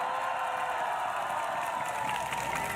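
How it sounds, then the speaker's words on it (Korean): An audience at a political rally in Mokpo claps together in a dense, sustained burst of applause with some cheering, steady throughout. "동의대 박수 한번 치세요"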